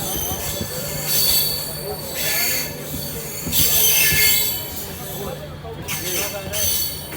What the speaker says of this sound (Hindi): अपनी अमृत भारत एक्सप्रेस निकल चुकी है चंदोसी रेलवे स्टेशन से